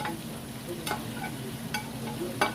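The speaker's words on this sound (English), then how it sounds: "and I'm gonna cook it up, because right now it's frying." Low, quiet sizzle of vegetables frying in a pan, with a few soft clicks of stirring, heard close with no talk.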